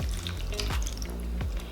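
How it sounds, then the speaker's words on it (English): Water poured into a pan of cut broccoli on the stove, a close, continuous splashing trickle with faint drips. "Now I'm adding a little bit of water to it."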